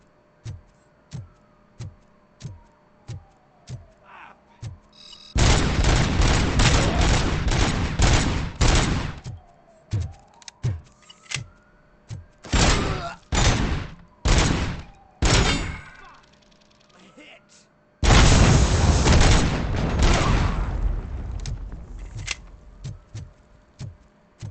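Heavy weapon fire in the video game Robocop: Rogue City, with loud sustained bursts broken by short pauses and quieter single shots, dense and close, with metallic clanks between volleys.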